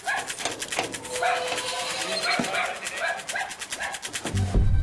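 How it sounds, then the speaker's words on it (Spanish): Dogs bark in short bursts against a noisy outdoor background, with voices and commotion mixed in and a heavy thump near the end. "Los ladridos de los perros denotan que algo extraño ocurre."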